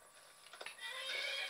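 A horse whinnies in the Skyrim video game, a faint, short neigh rising at the end after a few soft hoof-like ticks.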